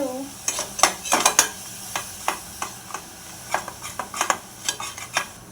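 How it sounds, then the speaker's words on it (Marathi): Chilli powder, turmeric, garam masala and salt are stirred through hot oil, with a faint sizzle under repeated scraping and clinking of a spoon against the pan. "सर्व मसाले तेलामध्ये परतून घेऊ"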